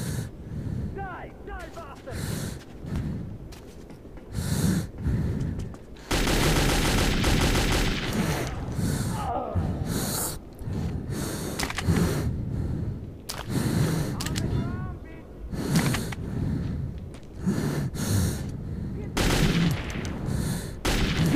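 Enemy soldiers open fire in the video game Metro 2033, with repeated bursts of gunshots, including a dense sustained volley in the middle, mixed with gasps and breathing. Someone talks over parts of it.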